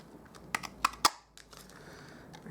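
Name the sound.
cutting cardstock with scissors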